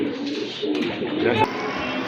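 Foreign pigeons kept for sale coo softly at close range, a few low throaty calls over quiet background noise with a brief clatter near the end.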